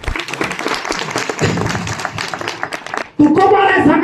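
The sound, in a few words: audience applause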